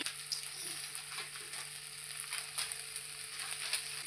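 Ground spice masala sizzles and fries in a hot pan, a steady crackling hiss near and fairly quiet, broken by occasional stirring scrapes, with no voices.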